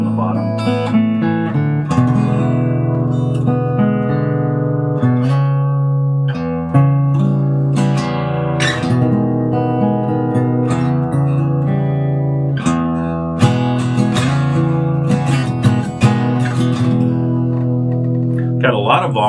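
Late 1930s–40s Gretsch Model 40 acoustic archtop guitar played solo, loud and full with ringing strummed chords and picked notes in a steady flowing rhythm.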